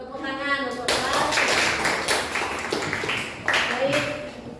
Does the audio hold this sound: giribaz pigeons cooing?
no